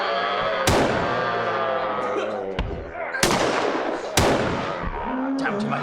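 Three sharp gunshots ring out in a dramatized battle, loud and close, each with a long echoing decay, layered over a dense, busy background of scored sound.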